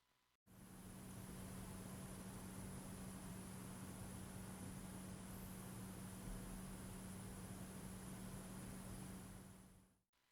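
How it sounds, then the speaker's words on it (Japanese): An ASUS TUF Dash F15 gaming laptop cooling fan in silent mode hums softly and evenly, a low steady whoosh that starts, holds constant for several seconds, then cuts off. "次に冷却ファンのノイズ音はサイレントモードから。"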